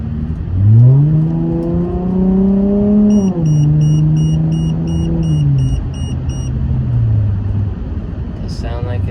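A modified Chrysler 300 engine revs up and settles: a loud, close rising then sagging engine drone with clear harmonics, holding steady before tapering into a lower idle.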